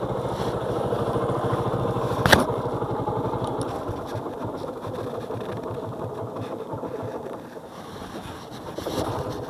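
A motorcycle engine runs steadily and close by with a low, pulsing throb, one sharp click cutting through early on, and the rumble dips slightly before picking back up.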